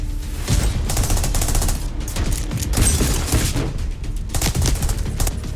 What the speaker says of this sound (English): That's a grenade launcher, right?